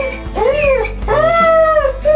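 An injured dog, hurt in a road accident and being handled at a veterinary clinic, lets out loud close whimpers and drawn-out yelping cries in three rising-and-falling bursts.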